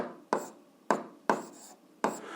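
Four separate pen strokes scratch out an algebra equation by hand on paper, each a short, close, faint scrape with a quick attack and short fade, spaced irregularly with quiet gaps between.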